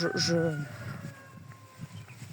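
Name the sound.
rooster crowing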